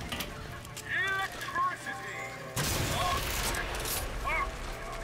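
Gunfire in the video game Bioshock Infinite, a burst of loud shots under game music and voices, with a dense noisy stretch of firing in the second half.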